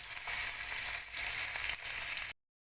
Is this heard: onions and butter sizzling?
yes